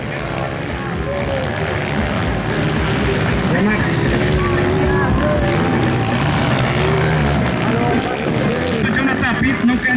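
Motocross motorcycles accelerate during a national pro race at Serra do Mel, Rio Grande do Norte, their engines whining and rising in pitch continuously and loud while a commentator talks over the noise.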